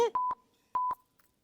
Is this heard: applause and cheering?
no